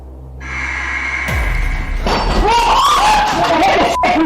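Glass breaks with a sudden crash and scattered tinkling shards in an indoor bar setting, fairly loud and close, over a steady background hum.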